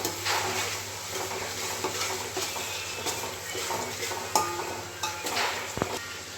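Ginger garlic paste frying for chicken biryani, a soft continuous sizzle with stirring scrapes and occasional utensil clinks against the pot, moderately quiet.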